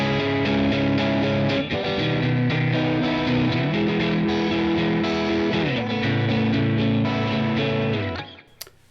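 An electric guitar sustains distorted chords through effects, a thick, steady wash that shifts pitch a few times before cutting off near the end.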